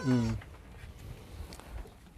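A goat kid on a farm gives one loud, close bleat at the start, followed by soft rustling and faint low sounds.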